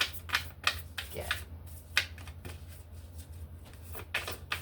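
Tarot cards being shuffled, a series of quick crisp riffling and snapping bursts in an irregular rhythm, close and clear over a low steady hum.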